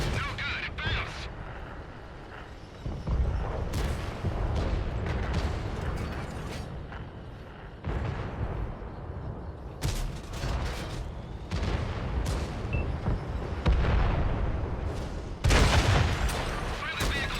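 Tank cannon shots and clanking turret mechanisms from World of Tanks battle gameplay, heavy booms and rumbling bursts recurring every few seconds over a dense engine drone.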